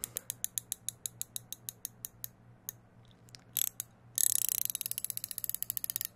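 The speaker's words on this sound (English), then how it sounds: "it's a spanner, but it has a ratchet on the end" Ratcheting spanner clicking close up, a regular series of sharp ticks, then a brief pause and a faster, louder burst of rapid clicks, with no talk over it.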